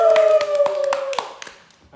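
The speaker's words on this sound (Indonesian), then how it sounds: "Tepuk tangan dulu" A few claps and taps sound during an Indonesian podcast episode, brief and close, over a sustained tonal hum that fades out after about a second.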